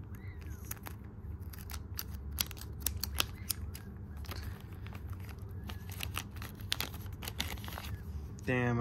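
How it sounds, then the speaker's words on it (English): Scissors snipping through cardboard toy packaging while unboxing a Transformers Legends Class Slash figure, a run of sharp, irregular cuts with crinkling and tearing, close up and fairly quiet, ending in a louder rustle. "we're gonna use scissors"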